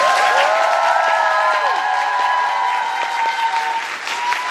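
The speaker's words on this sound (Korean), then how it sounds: "우리 바오밥들에게도 박수 한번" A theatre audience applauds the cast at the closing-performance curtain call of the musical 'Laika', a dense, steady wash of clapping with a faint sustained tone running through it.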